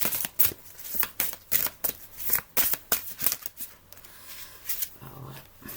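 A deck of cards being shuffled for a card reading gives a rapid, rhythmic run of crisp riffles and slaps, close and fairly loud, that eases into softer handling near the end.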